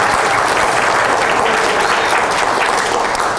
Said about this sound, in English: I don't always get applause for that one.